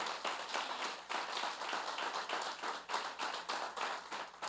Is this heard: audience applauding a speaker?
yes